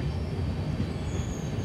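The Kakinada Port–Bhavnagar superfast express rumbles steadily as it slows, with a continuous low wheel-and-carriage drone and a faint high squeal, heard from inside the train with no talk.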